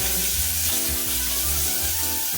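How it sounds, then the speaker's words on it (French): Minced garlic and crushed shallots fry in hot oil, making a loud, continuous close sizzle with a bubbling crackle throughout and no talking. "une fois qu'elle est chaude, on va rajouter dans un premier temps l'ail haché. On rajoute les échalotes concassées."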